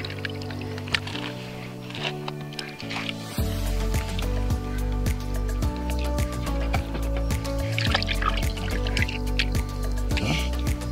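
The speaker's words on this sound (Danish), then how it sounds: "Skyller lige." Garfish fillets are rinsed under running tap water, a steady trickle and splash with dripping and squishing sounds close by over a musical background.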